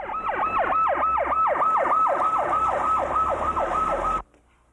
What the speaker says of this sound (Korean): 민석 씨 부부는 구급차를 마중 나갔습니다.